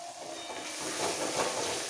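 Spice masala for an egg curry being sautéed in oil, a continuous hissing sizzle that swells slightly, close and fairly soft, no talking.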